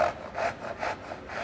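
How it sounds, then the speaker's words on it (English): Hand saw cutting an angled mitre in wood for a mitred dovetail joint, a steady back-and-forth rasp of about five close, moderately loud strokes. "to cut out this mitre, I need to angle the saw back like this"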